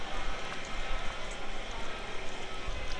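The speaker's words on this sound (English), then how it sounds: "But look, it's raining." Steady rain falls at Boca Chica in the Dominican Republic, a soft continuous hiss of drops spread evenly across the scene, faint and unbroken with no voices over it.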